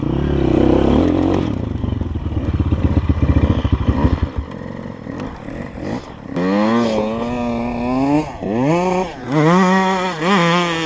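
KTM 65 and Chinese 250cc motorcycles rev hard at a race start, the first seconds rough and clattery before loud rising and falling engine whines sweep up through gear changes, close and dominant.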